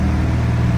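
A Honda Civic EG hatchback's swapped engine runs steadily and loudly up close, a continuous mid-low drone with no break across the short stretch.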